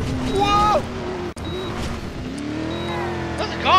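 A car speeding and skidding, with engine roar and tire squeal throughout, sliding in pitch as it swerves, briefly cut off for an instant, loud and close, with excited voices under it.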